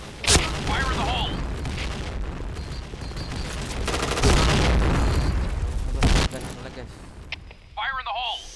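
Grenade blasts and gunfire crash through a Point Blank match, a sustained loud barrage with heavy booms, while players shout and talk over the chaos.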